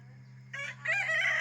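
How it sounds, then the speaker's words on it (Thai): Fighting rooster crowing close by, a loud rising call over a steady low hum, beginning abruptly and swelling into a sustained harsh crow. "เลี้ยงไก่ชนด้วยครับผม แต่ก็ไม่เคยเอาไปตีไหนสักที"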